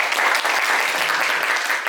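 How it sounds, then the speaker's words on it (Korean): Dense, even applause from a forum audience at a university event, a short continuous burst of many hands clapping. "자신감 넘치는 발표해 주신 박민 학생에게 다시 한번 큰 박수 부탁드립니다."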